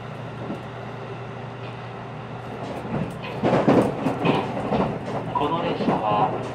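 The overnight chartered extra train Revival Dream Nichirin runs after leaving Hakata at night, with a steady interior rumble and rhythmic wheel clatter that grows louder midway, and a voice speaking over it.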